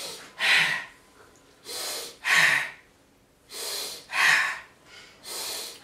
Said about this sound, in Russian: Когда вы начинаете дышать по счету